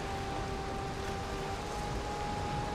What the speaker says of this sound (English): Why did it have to start raining now?